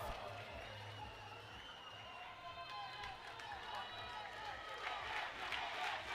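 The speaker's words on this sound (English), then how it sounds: "the Kenya chants are starting to pump this crowd up" Kenya supporters in the crowd chanting at a youth Baseball5 World Cup play-off game on Field 2, a steady rhythmic crowd chant and cheering under continuous commentary.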